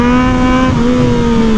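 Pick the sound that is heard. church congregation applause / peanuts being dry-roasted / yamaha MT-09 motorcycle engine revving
yamaha MT-09 motorcycle engine revving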